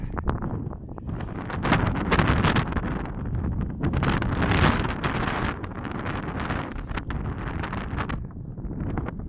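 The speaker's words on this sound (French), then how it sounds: "je vous parle pas maintenant, hein, il y a trop de vent" Strong wind buffets the microphone outdoors in bad weather in loud, uneven gusts, a continuous roaring rumble with no voices.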